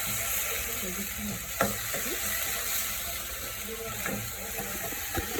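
Prawns frying in a hot pan, a dense continuous sizzle with occasional sharp clicks and scrapes of stirring, close and fairly loud, with no voices.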